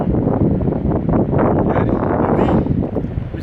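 Chilly wind sweeping across a snowy mountain slope during a glacier expedition, a loud, steady roar buffeting the microphone with gusty swells and no pauses.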